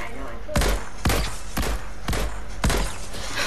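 Five sharp gunshots ring out at roughly half-second intervals during shooting in a video game, the reaper pickaxe in play, with talk running underneath.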